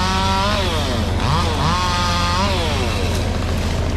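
A chainsaw runs at steady high revs while cutting through poison oak brush, its loud, close whine rising and dipping as the blade bites into the growth.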